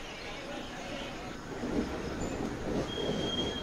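A train pulls out of Lumding junction station in Assam, its steady rolling rumble and wheel noise building slightly as it gains speed, with a faint high squeal near the end and a distant voice underneath.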